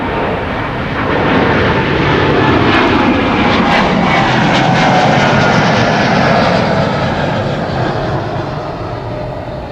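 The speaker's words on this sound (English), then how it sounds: "Another C-17 is on the way, arriving from Mildenhall Air Force Base in the United Kingdom." Boeing C-17 military transport arriving from Mildenhall, a loud jet engine roar that swells as the aircraft nears and passes, then slowly eases off, with no voices.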